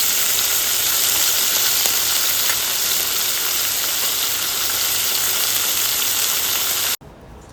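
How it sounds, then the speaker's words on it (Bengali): Fish frying in hot oil in a home kitchen produces a loud, continuous crackling sizzle that holds steady for several seconds before cutting off abruptly near the end, with no talking. "এখানে এই যে মাছ ভাজা করছি"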